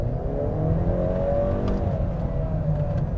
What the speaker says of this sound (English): Let's floor it and see what happens.